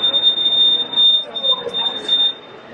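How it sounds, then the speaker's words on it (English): An electronic alarm, like a smoke alarm, sounds for over two seconds as a steady, piercing high-pitched tone, with people talking underneath. "The alarm's going off."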